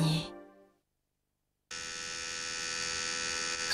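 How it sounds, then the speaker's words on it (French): A Colgate ActiBrush battery-powered toothbrush gives a steady electric buzz with a mains-like hum. The buzz starts abruptly after a short silence and keeps going evenly, in a television commercial. "Ceci est le son de la propreté. La brosse à dents à pile Colgate ActiBrush a été testée cliniquement."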